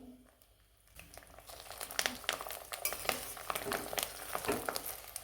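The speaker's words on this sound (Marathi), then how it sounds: "ते आपण फुलं ते तेलामध्ये मिक्स करून घेणार आहोत" Flowers are stirred into hot oil in a pan for a traditional homemade herbal hair oil, with crackling sizzle and spoon scraping starting after a quiet second and continuing steadily up close.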